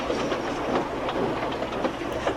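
A steam locomotive in the Trainz railway simulator pulls coaches away, with a loud, continuous rumble and rhythmic clickety-clack of wheels on track and no voices.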